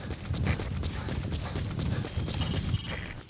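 Horse galloping across open wilderness in Metal Gear Solid V, a rapid rhythmic clip-clop of hooves sustained and close throughout, with no speech.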